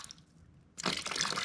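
Liquid dripping faintly, then pouring out in a sudden loud gush from rusted water pump parts, close and splashy for the last half.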